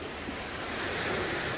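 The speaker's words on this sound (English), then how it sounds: "The waves become a little bigger." Ocean waves wash onto a beach in a continuous, broad rushing surf with some wind noise, steady and fairly loud, with no voices.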